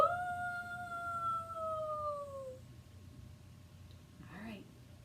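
Someone imitating a wolf howl with a long sustained, slightly falling wail lasting a few seconds, followed by quiet room tone and a brief vocal sound.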